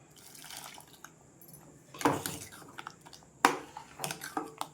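Water splashes and trickles in short bursts, with a couple of louder pours into a container amid kitchen clatter.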